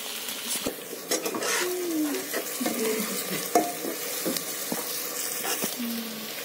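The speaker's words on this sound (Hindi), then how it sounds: "इसको अच्छे से फ्राई करेंगे" Chopped onions sizzling and frying in a pan for a jackfruit (kathal) curry, with a steady hiss, repeated spoon stirring and occasional scrapes and clinks against the metal, close up and without talk.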